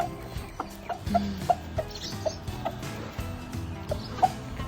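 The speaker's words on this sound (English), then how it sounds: "He's the one making all those little clucks when he's happy." A rooster makes a run of soft, short clucks, repeated at an irregular pace close by, with light background noise.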